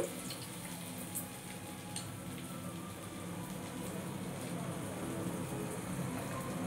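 Bombay duck fish fingers fry in oil with a continuous moderate sizzle and crackle, steady throughout with faint clinks on top.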